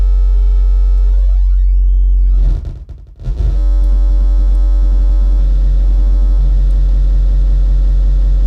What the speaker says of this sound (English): So this is just a sine wave.